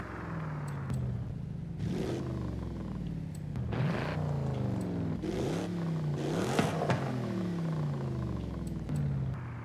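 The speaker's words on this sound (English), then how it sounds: "the stock exhaust honestly sounds so good" Stock exhaust burble of a Mercedes-Benz in the video game Forza Horizon 5: a deep engine rumble that rises and falls through several revving swells, with crackling burble between them, heard alone.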